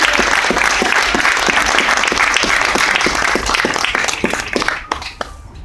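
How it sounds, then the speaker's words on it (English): Loud, dense audience applause at a John Lennon memorial celebration, a crowd clapping steadily and strongly throughout, with a few sharp individual claps standing out, then fading near the end. "Give them a round of applause."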